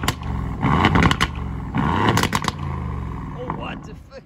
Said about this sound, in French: Oh, le bruit, quand tu passes la vitesse